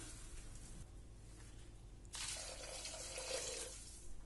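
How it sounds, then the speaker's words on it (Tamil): Water pours from a tap or jug into a pot of mixed vegetable soup, a steady rushing flow that swells louder partway through, close by, with no talk. "இதில் ஒரு ரெண்டு டம்ளர் வாட்ரு"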